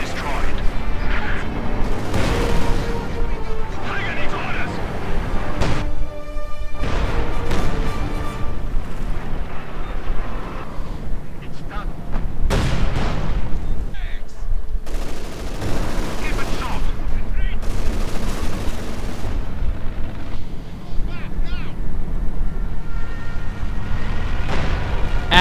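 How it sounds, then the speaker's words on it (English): Gunfire and a bombing strike erupt in a Company of Heroes 2 battle, with sharp shots and deep heavy blasts thudding at intervals beneath steady commentary from a voice. "And another of the bombing strikes."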